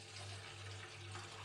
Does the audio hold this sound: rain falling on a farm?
no